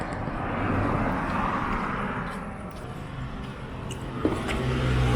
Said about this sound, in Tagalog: start ko lang yung sasakyan kasi baka ayaw na niyang umandar